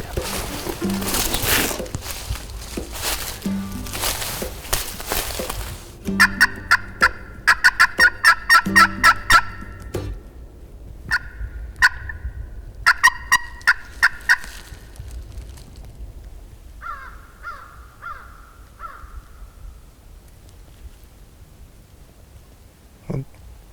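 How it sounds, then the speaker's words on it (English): Several loud, rattling wild turkey gobbles ring out in quick bursts, then repeat more faintly and farther off, following a stretch of rustling and wind outdoors in the Virginia hills. "and he just gobbled"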